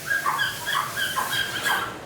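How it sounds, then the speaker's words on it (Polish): Dogs at a market in Hai Phong, Vietnam whimpering and whining in repeated high, thin cries, several rising and falling in quick succession, fairly close and clear. "Tych psów To są dziesiątki, jak nie setki."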